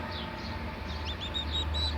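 Thin, high peeping chirps from newly hatched Gurk chicks repeat rapidly over a low background hum, fairly faint.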